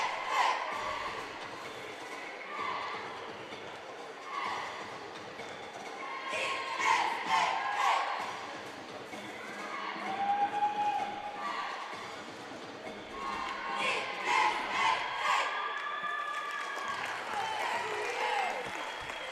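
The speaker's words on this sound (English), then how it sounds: "And now our cheer team is doing their thing." A high school cheer team shouts at a basketball game between Gibbs and Northview in a gym: bursts of rhythmic chanting and crowd cheering rise and fall, with scattered applause and voices around them.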